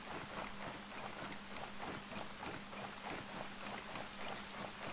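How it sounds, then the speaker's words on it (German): Steady rain pours in a Ghost Recon Breakpoint game scene, a dense, even hiss of falling drops with no talk over it. "hier regnet"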